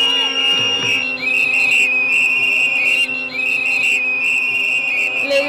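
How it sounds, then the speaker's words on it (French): Loud, shrill whistles blow almost continuously at a large student protest, several overlapping tones sustained over a noisy crowd background. "Les gens sifflent toujours et ils font le bruit"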